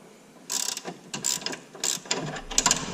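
A wrench turns a machined pin with 14mm flats while installing a 72-inch quick detach on a Can-Am X3, giving close, loud bursts of metallic ratcheting clicks in short irregular runs.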